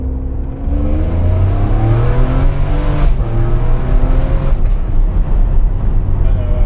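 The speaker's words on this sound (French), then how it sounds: "le son du V12" A Ferrari 599 GTB Fiorano's V12 engine revs up to 6000 rpm, loud and close, with rising harmonic tones climbing smoothly before briefly dropping and building again.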